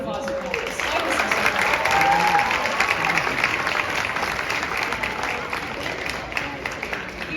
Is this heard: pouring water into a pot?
no